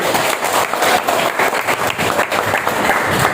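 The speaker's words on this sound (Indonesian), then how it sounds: "Oke, tepuk tangan untuk diri kita" Students in a classroom clap for themselves, a dense, continuous burst of many hands applauding together close by for a few seconds.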